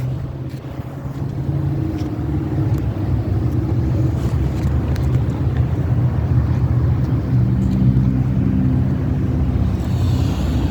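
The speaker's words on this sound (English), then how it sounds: "Listen to that. Buick. That's a V8 too." A Buick V8 engine idles steadily at a car show, a loud, continuous low rumble with outdoor wind noise throughout.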